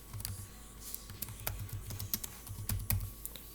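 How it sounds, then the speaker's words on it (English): Quick, irregular clicks of a computer keyboard being typed on, close and fairly quiet, with short bursts of keystrokes and no talking. "I'll just type in right here."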